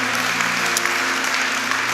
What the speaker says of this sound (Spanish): Vamos a darle un fuerte aplauso a nuestro Señor Jesucristo.